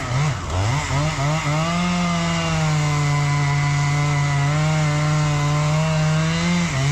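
Chainsaw boring a plunge cut into a tree, the engine revving up in the first second and then holding a loud, steady, high-pitched whine throughout.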